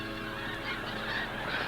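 Snow geese honk in a dense flock on the Arctic tundra, a continuous overlapping chorus of nasal calls, loud and close, with no voices.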